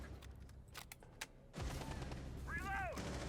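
Rapid gunfire bursts in the tactical shooter game Rainbow Six Siege, sharp cracks and a loud sustained volley with a brief tonal whine, mixed under game sounds.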